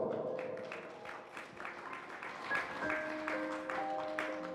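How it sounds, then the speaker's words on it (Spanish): Applause welcoming a speaker at a quinceañera celebration, faint, scattered clapping heard at a distance under background music with sustained tones, fairly soft overall. "vamos a recibirle con fuerte voto de aplauso."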